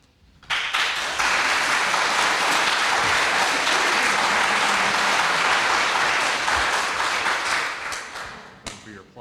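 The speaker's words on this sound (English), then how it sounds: "For your applause today." Applause from a crowd at a political town hall event in Indigo Hall, Spartanburg, South Carolina: it starts abruptly, holds a loud, dense, sustained roar of clapping, then tapers off toward the end.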